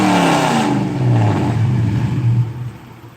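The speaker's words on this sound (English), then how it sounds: "It's probably kind of hard to hear over the engine." V8 car engine, a GM 4.8 L, revving loudly up close, a rough low growl that climbs and falls in pitch and holds strong before easing off.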